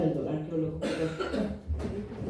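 A person coughs a few times in quick bursts during a lecture, close and fairly loud, then a low rough throat sound follows.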